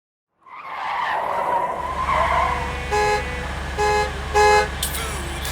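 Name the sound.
car horn honking in the video game Rust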